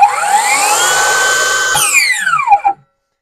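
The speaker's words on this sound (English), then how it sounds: "I'm going to turn on that little silent mode here, which allows the saw to run at a slightly slower RPM" A Metabo HPT (Hikoki) 36V MultiVolt circular saw running in its slower silent mode, a loud close whine that holds steady, then shifts pitch and winds down to a stop near the end.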